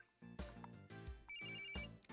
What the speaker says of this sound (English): Who's calling? That ain't my phone.